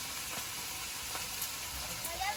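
Fish roe and shrimp go into a pan of sizzling bottle-gourd greens, giving a steady, soft frying hiss heard fairly quietly throughout.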